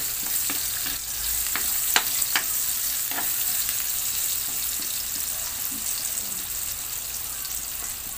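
Taro runners (takway) stir-fried with ginamos fermented fish paste sizzle steadily in a hot pan, with scattered clicks and scrapes of stirring over a constant frying hiss.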